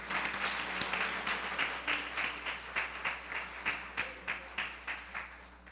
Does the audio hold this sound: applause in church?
yes